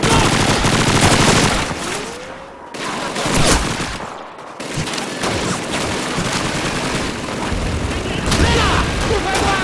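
An MG42 machine gun rattles in long sustained bursts across a Call of Duty 2 Russian campaign battle, loud and dense, with booms and other gunfire layered in and shouted voices mixed through the din.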